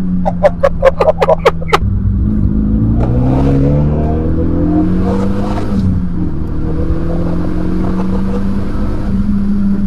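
A Renault Mégane RS Cup gives a burst of sharp, rapid revs, then accelerates hard with a loud rising engine note that climbs through gear changes and keeps pulling strongly to the end.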